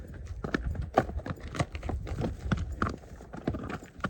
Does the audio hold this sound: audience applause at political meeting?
no